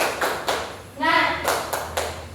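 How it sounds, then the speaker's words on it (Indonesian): Schoolchildren in a classroom perform a rhythmic cheer clap, with short bursts of group clapping recurring in a pattern while a voice chants between them. "kita tepuk semangat dulu ya"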